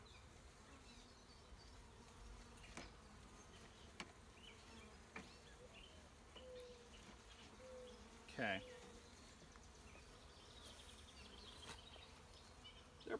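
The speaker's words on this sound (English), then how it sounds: "They're pretty excited. They're buzzing around pretty good" Honey bees from a newly installed hive buzzing around outdoors, faint and steady with occasional closer passes, and one brief spoken word near the start.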